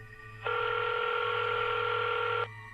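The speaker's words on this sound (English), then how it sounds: "I picked up the phone and dialed 911." Telephone keypad tones dialing 911 on a home phone during an emergency, heard as one sustained, loud steady tone lasting about two seconds over a faint background hum.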